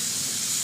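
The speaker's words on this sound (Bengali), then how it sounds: "এবার আমি এর মধ্যে চর্বিটা দিয়ে দিলাম" Mutton fat dropped into fried spices in a pan for ghugni sizzles with a steady, close hiss throughout a brief moment, no talking over it.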